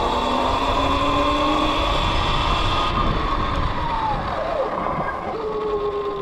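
A Sur-Ron electric dirt bike rides at about 30 mph and then brakes with the stock rotor. A steady motor whine and wind rush run throughout, with a falling tone and a slight drop in level near the end.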